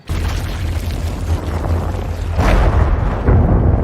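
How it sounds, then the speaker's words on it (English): A massive plasma cannon blast in a sci-fi ghost war movie, heard as a continuous loud low rumble that swells into a heavier burst partway through, then a second impact, with no voices. "A massive explosion scattered the energy mass, but it also shattered the containers in the lab."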